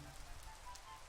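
Steady, soft rain hiss in Minecraft, set off by weather TNT from the Super TNT mod, a continuous even patter throughout.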